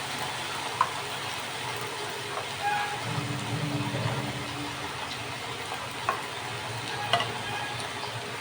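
Paneer chicken frying in a pan while being stirred, with a steady close sizzle and intermittent scraping strokes of the spoon, a few sharper knocks against the pan.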